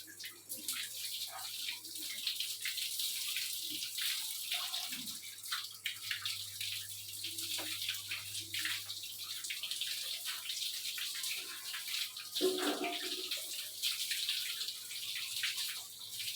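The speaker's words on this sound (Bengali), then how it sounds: "এই দেখেন মাথার মধ্যে পানি দিচ্ছি" Water poured over a cow's head as it is bathed in winter; a continuous splashing, trickling stream runs steadily throughout, with occasional louder splashes and drips, close and fairly quiet.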